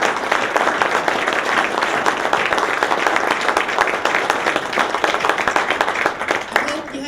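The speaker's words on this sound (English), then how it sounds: "If we give them just another round of applause." Sustained applause from the audience at a university athletic hall of fame induction evening, many people clapping steadily and fairly loudly throughout, with a voice briefly rising near the end.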